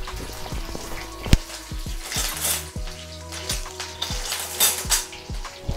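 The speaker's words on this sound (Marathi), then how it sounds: "फोडणी तडतडली की त्यात टाकायचा आहे चिरलेला कांदा." Garlic, green chili and curry leaves crackle and sizzle in hot coconut oil as a tempering. The spluttering is busy and irregular, with metal spoon clinks and pan scrapes mixed in.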